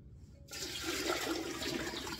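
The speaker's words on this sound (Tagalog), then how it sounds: "dagdagan natin siya ng tubig" Water rushes suddenly into a cooking pot holding mason jars of seasoned salmon for a water bath canner, a loud, steady gushing pour that starts abruptly after a moment of near silence.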